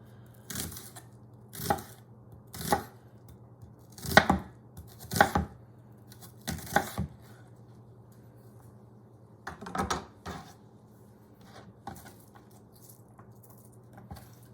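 A knife chopping onions into julienne strips on a cutting board, in sharp, close, separate strokes that come in uneven clusters with short pauses between them, over a faint steady hum.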